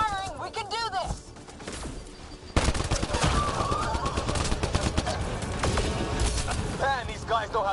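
Dense gunfire in Mass Effect Andromeda, rapid overlapping shots and bursts under game sounds and brief voices, with a quieter lull before the shooting swells loudly and keeps rattling on.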